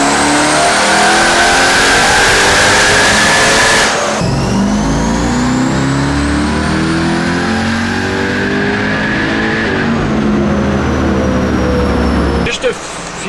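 A 900-wheel-horsepower Jeep Trackhawk with a ported Demon supercharger revs hard toward its limiter, a loud sustained engine roar with rising and falling pitch sweeps, close and dominant throughout, with brief voices mixed in.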